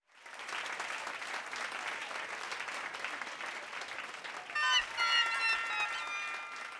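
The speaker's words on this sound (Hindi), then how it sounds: "नहीं, यहाँ पे तालियां बजेंगी।" Applause from an Independence Day gathering of a housing society's residents, a steady wash of clapping from a group that holds for several seconds, with a brief bright ringing tone near the end.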